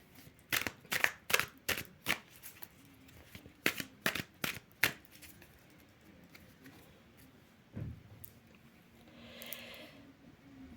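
Tarot cards shuffled in quick bursts of riffling flicks, close and crisp, then quieter handling with a faint voice toward the end.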